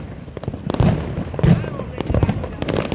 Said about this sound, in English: Exploding all these fireworks.